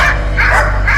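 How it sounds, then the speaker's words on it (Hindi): Dogs bark in close, loud, rapid yips over about a second, a horror story sound effect with no talk. "अंधेरे में कुत्तों की चमकती हुई आंखें और गुर्राने की आवाजें किसी पत्थर दिल को भी डरा देती"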